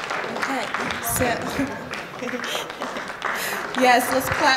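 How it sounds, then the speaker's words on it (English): Audience applause for students at a school board awards and recognition ceremony, steady clapping from a crowd mixed with talking voices throughout, swelling slightly toward the end. "let's clap for all of our athletes, musicians, scholars."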